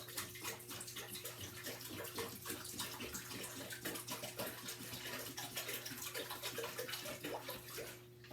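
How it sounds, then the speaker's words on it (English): About two quarts of water pouring steadily from a gallon jug into a pot, a continuous close splashing stream over a faint electrical hum. "So I usually put about 2 quarts of water in there"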